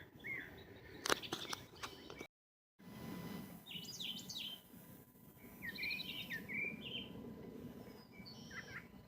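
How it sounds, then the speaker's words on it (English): Birds sing and chirp around a Florida lake, with several bright, repeated twittering phrases over a soft ambient background, moderately close and unaccompanied by talk; a brief dropout interrupts it early on. "all I hear is birds"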